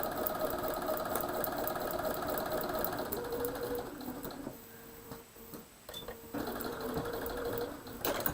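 A sewing machine stitches a fabric piece for a New York Beauty quilt block, running steadily and close for about four seconds, then slowing and pausing briefly before starting again in short runs.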